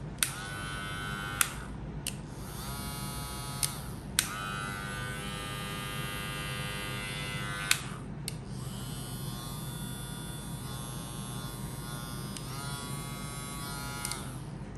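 A VGR V003 electric hair clipper buzzes steadily and loudly, its hum broken by a few brief clicks and pauses as it's switched or repositioned.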